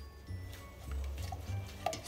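Scrambled eggs being stirred in a pan, with soft scraping and light clinks of utensil against the pan repeating through a short stretch, close and fairly quiet.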